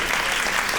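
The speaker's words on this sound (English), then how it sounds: "Clap it up for yourselves." A live comedy crowd claps briefly and steadily, a dense burst of audience applause at close range with no voices standing out.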